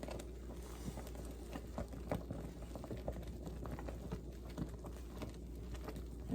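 Jalapeno pepper jelly at a rolling boil in a pan gives a steady, quiet bubbling and popping patter over a low stove hum.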